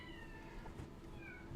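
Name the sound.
girl imitating a cat meowing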